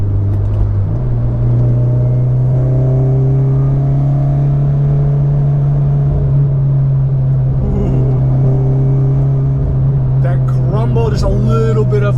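An Acura RSX Type-S engine drones at a steady, loud rev with low rumbling and burbling, close up, and a person talks over it near the end.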